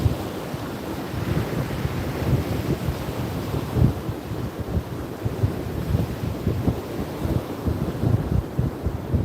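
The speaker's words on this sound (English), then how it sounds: "When it's really windy like this though" Strong wind at a saltwater fishing beach buffets the microphone with continuous low rumbling gusts over a faint surf wash, steady and loud throughout with no voices.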